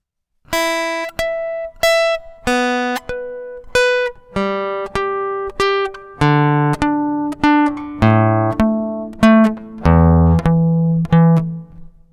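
A cheap acoustic guitar rings out in notes and strummed chords one after another, bright and close, building from single plucks to fuller chords with no voices.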